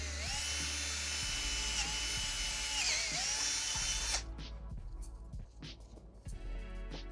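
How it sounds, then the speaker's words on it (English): A power drill bores a hole through PVC pipe for a car or truck body kit support, whining steadily at close range for about four seconds before stopping, followed by quieter handling noises. "Now we're just going to drill out the hole where we need it."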